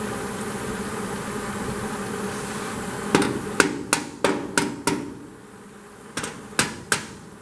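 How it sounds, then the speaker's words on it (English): A hammer strikes metal in a garage during work on a Dodge car, about ten sharp, ringing blows in two quick bursts after a stretch of steady background hum, each hit loud and close with a short decay. "A goddamn hammer."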